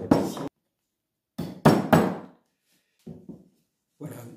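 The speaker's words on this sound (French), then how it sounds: "Un marteau comme ça, ou un vrai marteau de tapissier." Upholsterer's hammer driving tacks into raw unbleached canvas on a wooden painting stretcher: a few sharp, close knocks in small clusters, separated by short silences, with no talking.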